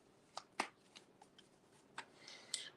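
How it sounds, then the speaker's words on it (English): A short riffle-shuffle of tarot cards, a few quick crisp flicks and taps close by and quiet, with a soft flurry of card noise near the end. "Oh, short shuffle."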